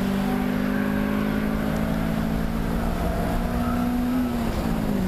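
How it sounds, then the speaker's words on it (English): Two Honda Integra race cars roar past on a circuit during a race, engines held at a steady high drone with slight pitch shifts as they go by, loud and close with no talk. "Here come the two Integras, car number 33 and 333"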